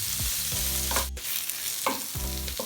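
Onions and green chilies sautéing in a pan for clams fry, loud close sizzling broken by repeated scraping stir strokes, with no voices.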